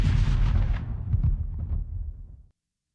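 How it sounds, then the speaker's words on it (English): A loud, close explosion sound effect: a sharp blast followed by a rolling, rumbling decay with a few secondary crackles, fading out after about two and a half seconds, with no voices. "Now we need explosion right there."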